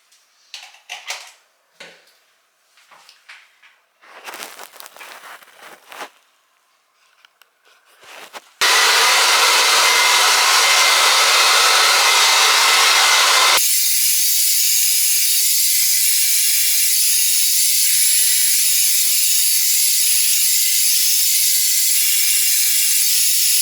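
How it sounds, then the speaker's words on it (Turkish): A hair dryer blows on hair at home after a few seconds of quiet handling sounds, then runs as a loud, steady rushing hiss that shifts to a slightly different, continuous tone partway through. No voices are heard. "Saçlarımla böyle hafiften bir kuruttum."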